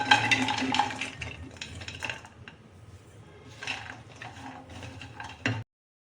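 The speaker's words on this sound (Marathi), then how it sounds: "आता आपण खारीक भाजूया" Dry dates (kharik) roasted on a low flame and stirred in a pan, with a flurry of scraping and rattling at first, a quieter stretch, then another burst of stirring before an abrupt stop.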